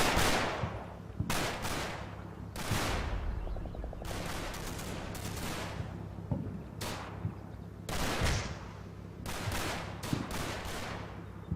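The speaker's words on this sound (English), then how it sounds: "This mortar's coming in a lot of handy." Mortar rounds and gunfire in the Combat Mission: Battle for Normandy war game, heavy booming blasts and bursts of firing landing in irregular clusters, some close and sharp, others rolling and fading, with no talk.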